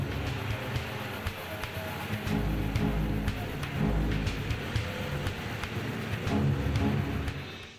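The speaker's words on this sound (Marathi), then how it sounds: "पाऊस यायला लागला." Rain starting to fall at night outdoors makes a steady wash of patter with scattered drops hitting nearby surfaces. A low rumble runs underneath, and brief voices come through faintly.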